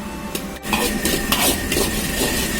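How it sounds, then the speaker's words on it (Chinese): Ginger, garlic and red chili stir-fried in a wok with scallion oil, oyster sauce and sweet bean paste: a spatula scrapes and clatters against the metal over a soft sizzle, close and busy, with a brief pause near the start. "然后下入适量的蚝油和甜面酱炒香"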